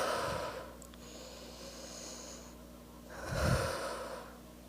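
Heavy breathing from a single character, two deep breath surges, one early and a louder one near the end, close and alone with no talking.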